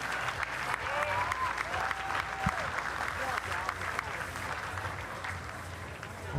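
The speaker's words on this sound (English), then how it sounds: "How about a round of applause for all the competitors here in event 27?" Spectators at the Pan Pacific swimming championships applaud competitors after a men's 200-meter backstroke heat, sustained clapping filling a large pool hall, with a faint voice in the background.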